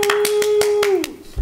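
Several sharp hand claps, added as a sound effect, ring out in a quick regular rhythm over a sustained tone that slides downward, then a voice briefly starts at the end.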